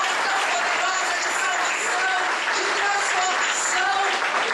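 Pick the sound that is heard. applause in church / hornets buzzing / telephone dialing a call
applause in church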